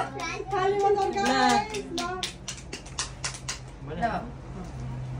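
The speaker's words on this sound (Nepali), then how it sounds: "ताली बजाऊ गाइस।" Guests at a baby shower clap in a quick, uneven burst of several hands, close by, following a moment of talking, with more voices and a few scattered claps after.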